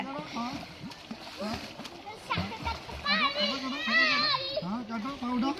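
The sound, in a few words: children swimming and splashing in a village pond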